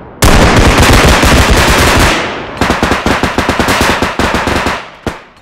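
Loud rapid bursts of automatic gunfire in the video game Bodycam, a long sustained volley, a brief pause, then another fast rattling burst and a final shot.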